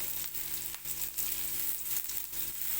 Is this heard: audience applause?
no